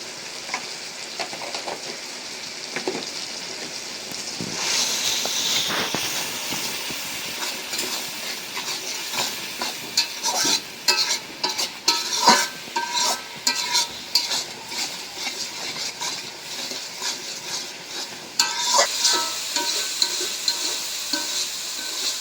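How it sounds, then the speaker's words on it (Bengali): Turmeric, chili and coriander powder being dry-fried in a pan: continuous loud sizzling with frequent scraping strokes of a spatula, growing busier and more rhythmic midway, no talking. "মশলা ভালো করে কষাই নিলাম, একদম শুকনা শুকনা করে।"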